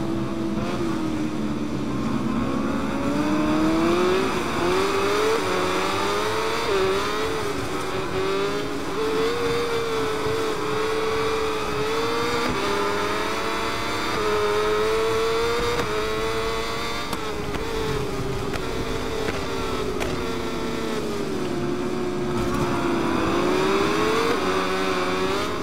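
Superbike engines roar continuously through a race at Aragon in the motorcycle game SBK 22, loud and close, with pitch rising and falling through gear changes and throttle, plus occasional revving swells, with no talk.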